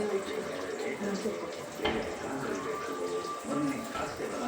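Water runs and splashes into a bowl in a continuous stream, with people's voices murmuring over it.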